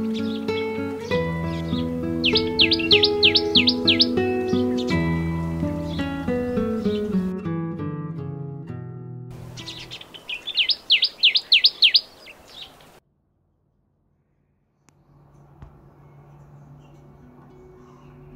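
A common tailorbird gives loud, rapid, repeated chirping calls over melodic background music, in two bursts, followed by a brief silence and quieter sound.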